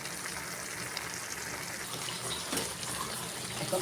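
A little water poured into a pan of Malabar spinach cooking with prawns, a steady close splashing gush that runs through the whole moment with no talk.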